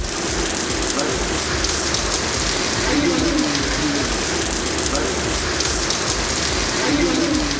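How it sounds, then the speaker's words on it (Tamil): Heavy rain pours steadily in the Hosur and Krishnagiri area, a dense, unbroken hiss of rainfall on surfaces with no pauses, loud and close throughout. "பலத்த மழை பெய்தது."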